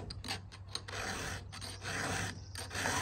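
A hand file rasps against a chainsaw chain during sharpening on a truck tailgate, short repeated close strokes with brief pauses between them, with no talk.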